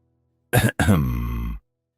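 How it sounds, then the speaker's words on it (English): A single throaty cough, short and somewhat strained, followed by a drawn-out breathy exhale, close up in a quiet space. "Weak cough."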